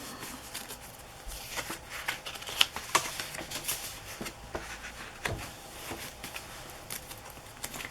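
Fabric pages and paper leaves of a handmade scrapbook journal are flipped and handled, producing soft rustles, light flaps and scattered crisp ticks at an uneven pace, close and fairly quiet, with no talking.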